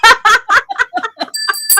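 A hand-held bell is swung in short, loud strikes, about eight quick rings in rapid succession, with clearer sustained ringing toward the end.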